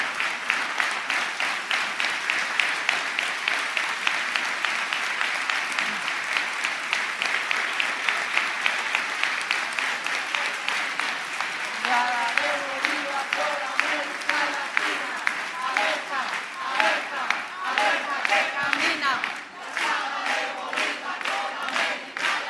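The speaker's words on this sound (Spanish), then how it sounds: "Gracias por ese aplauso" Sustained audience applause at a Spanish-language political event, dense clapping from a large crowd with scattered shouts and cheers rising in the second half, loud and continuous throughout.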